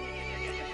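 A horse neighs in the Resident Evil Village video game, a single close, loud whinny lasting under a second with no talk over it.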